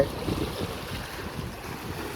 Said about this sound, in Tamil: இப்போ எங்களுக்கு வந்து காற்று ரொம்ப ஹெவியாக இருக்குது